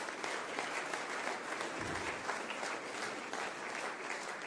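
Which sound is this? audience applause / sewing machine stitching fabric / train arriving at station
audience applause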